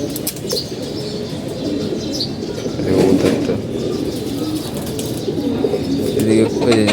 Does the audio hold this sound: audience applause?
no